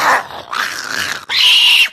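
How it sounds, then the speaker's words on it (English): Dog growling in three loud, close, strained vocal bursts, each a drawn-out whining snarl, with a brief break between them. "Get your fucking dog, bitch! It don't bite."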